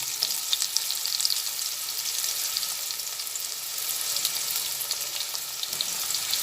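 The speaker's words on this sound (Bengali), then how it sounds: "আলুটা ভেজে নিচ্ছি কিছুটা ভাজা হয়ে গেছে" Potatoes fry in hot oil in a home kitchen while making ghugni, giving a steady, dense hiss and crackle with scattered pops, close and continuous, with no speech.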